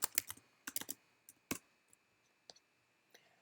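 Keystrokes on a computer keyboard while working in the R console, a quiet burst of rapid clicks followed by a few sparse, isolated taps.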